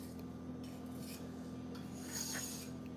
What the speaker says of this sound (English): Okay, almost got this all scraped.